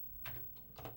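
A couple of light keystrokes on a Commodore 64 computer keyboard, faint and close, two soft clacks about half a second apart.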